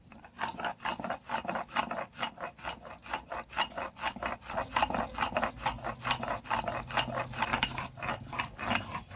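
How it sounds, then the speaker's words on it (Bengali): Spices ground by hand on a traditional flat grinding stone (shil), with steady, evenly spaced scraping strokes repeating close up, and no voices. "দেখেছেন মশলা কিরকম বেটেছি, পুরো মিহিন হয়ে গেছে"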